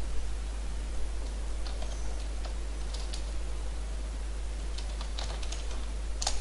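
Keys on a computer keyboard tap irregularly over a steady hiss while a project name is entered in Visual Basic 6.0, with soft scattered clicks and a few sharper presses, close and without speech.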